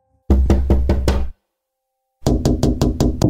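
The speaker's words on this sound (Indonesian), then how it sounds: "tiba-tiba terbangun di tengah malam oleh suara ketukan di jendela kamarnya" Someone knocks on a bedroom window in the middle of the night: a loud, close burst of rapid raps, a short silence, then a second quick run of knocks.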